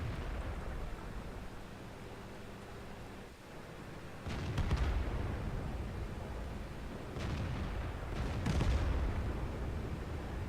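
Tank cannon fire in World of Tanks, deep booming shots and rumbling impacts over a low continuous battle drone, a couple of heavy blasts a few seconds apart.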